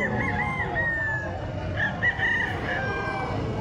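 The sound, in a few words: rooster crowing at a chicken market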